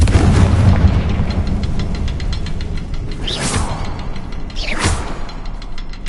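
Blasting-spell explosions from Hogwarts Legacy sound as two sharp whooshing bursts, one early and one late, loud and close over a dense rumbling game background.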